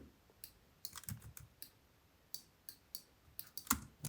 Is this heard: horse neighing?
no